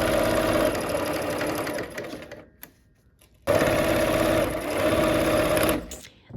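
A sewing machine stitches quilt sections in rapid, buzzing runs, loud and close, stopping for about a second before starting again and running on before cutting off.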